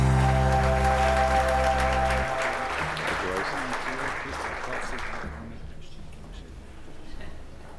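Audience applause at a university presidential excellence awards ceremony, loud and dense at first, then fading over the final seconds as music underneath ends early and a voice briefly speaks.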